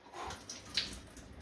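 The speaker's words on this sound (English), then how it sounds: "Now you notice when I pour this in my hand" Ginger drink pours into a cupped hand with a brief, soft splashing trickle, faint and close.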